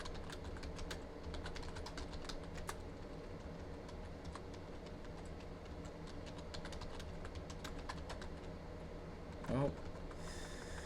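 Steady typing on a computer keyboard, with quick soft clicks and key taps running throughout, fairly faint and close, with a brief louder clatter near the end.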